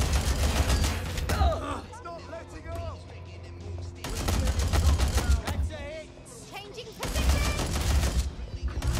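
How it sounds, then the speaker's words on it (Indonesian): Gunfire in the Watch Dogs Legion video game, loud bursts of shots arriving in three heavy clusters with quieter gaps between them, while a voice talks through the quieter stretches. "Tembak semua temanmu, tembak semua."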